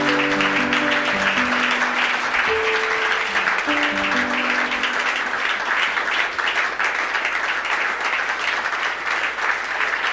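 A church congregation breaks into sustained, loud applause in praise of the Lord, with clapping filling the room steadily over soft lingering keyboard notes at the start.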